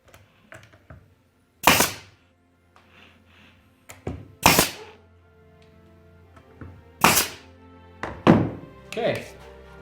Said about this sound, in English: you can just staple it down